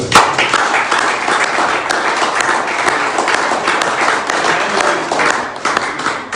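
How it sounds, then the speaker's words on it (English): A town hall audience in Athens applauds a guest, dense steady clapping filling the room at close range without letup. "I want you guys to give a round of applause for Vince"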